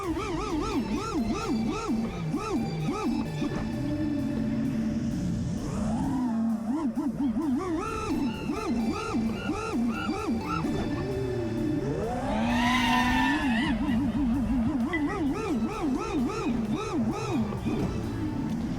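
FPV drone motors whine through a flight, their pitch sweeping up and down in wavering tones as the throttle shifts, with a sharp rising burst partway through, loud and close.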